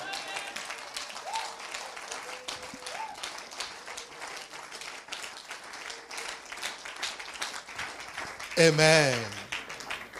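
A church congregation claps steadily throughout, acclaiming Jesus with cheers, while a voice talks over the applause and a loud shout breaks in near the end.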